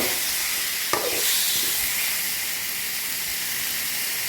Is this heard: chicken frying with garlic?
yes